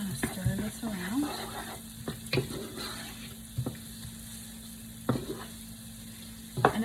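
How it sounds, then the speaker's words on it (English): Spaghetti sauce stirred in a pan: a low steady sizzle with repeated spoon scrapes and knocks against the pan every second or so, close and fairly quiet, a brief voice near the start. "just going to kind of stir this around"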